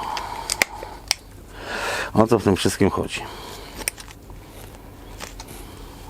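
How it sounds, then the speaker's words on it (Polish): Scissors snip through PVA fishing thread in a quick series of several crisp, close cuts, while a person talks over the sound. "zobaczcie, przecinamy tą PV-kę"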